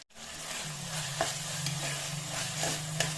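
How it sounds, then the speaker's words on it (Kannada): Tomatoes with salt fry and get stirred in a pan, giving a steady close sizzle with a few sharp scraping stirs, and no talk. "ಫ್ರೈ ಮಾಡ್ತೀವಿ ಟೊಮೆಟೊನ"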